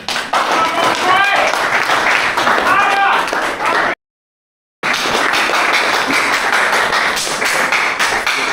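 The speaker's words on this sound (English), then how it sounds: "maybe give ourselves a round of applause" A panel audience breaks into a round of applause, with dense, lively clapping filling the room. It cuts out abruptly for nearly a second, then resumes at the same strength.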